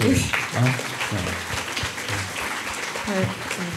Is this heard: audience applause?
yes